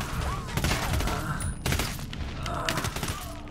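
Gunfire and mortar blasts in Ghost Recon Wildlands come as bursts of shots and heavy thuds over a few seconds, with a voice talking through the fighting.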